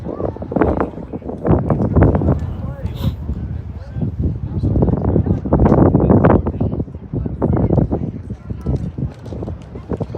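Gusty wind buffeting the microphone at an outdoor junior varsity baseball game in Dolan on a mild, roughly 60-degree day, a loud, rumbling roar that rises and falls throughout, with a voice talking over it.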